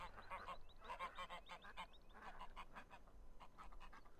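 A flock of geese in Farming Simulator 15 honks rapidly and repeatedly, dense overlapping calls at first that thin out toward the end over a low background hum.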